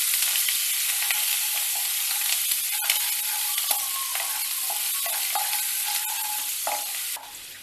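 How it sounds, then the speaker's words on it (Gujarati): Chopped chillies, ginger and onion sauté in a pan for a Kathiyawadi dahi vadi, giving a loud continuous sizzle close up, punctuated by scattered clicks and scrapes of stirring, dropping slightly at the very end. "ચોપ કરેલા મરચાં, ચોપ કરેલું આદું અને સમારેલી ડુંગળી ઉમેરી દેવાની. હવે બધું એકદમ સરસ ગોલ્ડન બ્રાઉન સાતળવાનું છે"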